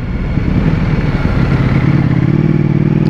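A Ducati V4S motorcycle engine rumbles loudly up close with a rough, clattering idle that settles into a steadier, deeper drone while riding.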